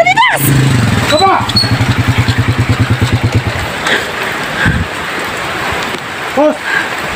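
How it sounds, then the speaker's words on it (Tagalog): Motorcycle engine puttering close by with a fast, steady pulsing beat that fades out partway through, while voices shout over it. "May motor!"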